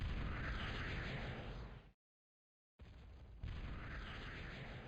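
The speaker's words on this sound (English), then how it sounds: "given enough range, the Mortys will shoot, like kind of lob their shots over the dragon's teeth" Artillery units in the Total Annihilation strategy game lobbing shells over dragon's teeth defenses, heard as a dense continuous roar of blasts and booms that cuts out briefly, then resumes loud and sustained.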